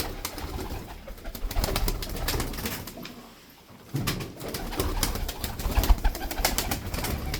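Tumbler pigeons cooing and calling throughout, with a brief quieter gap midway, plus some wing flutter and background outdoor noise.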